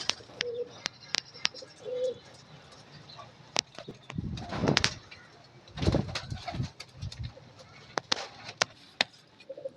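Pigeons kept by a hobbyist coo in soft low bursts at close range, mixed with sharp clicks and knocks, while people talk intermittently nearby.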